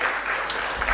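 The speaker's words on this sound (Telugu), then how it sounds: "Round of big applause." Dense audience applause at a university valedictory function during a memento presentation, a continuous wash of clapping filling the hall for a brief moment.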